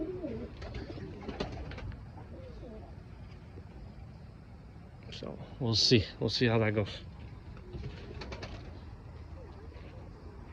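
Pigeons or doves in a breeding pair coo in a short burst of calls near the middle, heard among other birds, with a person talking over much of it.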